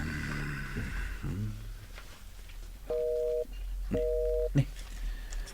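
A telephone busy signal sounds twice as a cellphone call fails to connect, two clear, steady tones each lasting about half a second, following faint talk and background noise.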